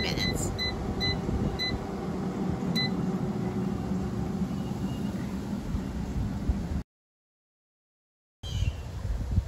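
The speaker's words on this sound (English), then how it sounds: "let's put the basket in the air fryer. And I will set the temperature to 400 degrees" An air fryer set to 400 degrees cooking halved acorn squash hums with a steady fan whoosh, and a few short electronic beeps sound near the start before the run cuts to a pause and resumes.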